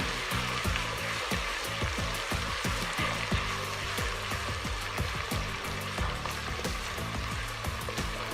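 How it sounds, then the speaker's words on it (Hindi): Crushed spice sautéing in a pan for chicken korma, a close, steady sizzle and frying crackle with dense popping bursts running continuously, no voices. "सौते करेंगे इसे, हमने इसे कलर नहीं देना"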